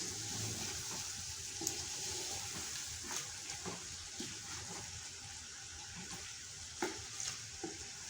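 A spice mix for beef nalli nihari is stirred and sautéed in a pan, giving a steady close sizzle with soft spoon scrapes and a few sharper knocks against the pot, and no talking.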